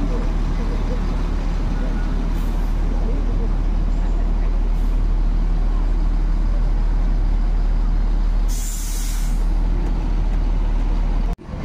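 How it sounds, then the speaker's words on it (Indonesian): An Al Hijrah bus pulling into Terminal Poris, a loud continuous diesel rumble with a sharp hiss of air brakes near the end and background traffic and crowd noise. "Masuk lagi bus Al Hijrah ya"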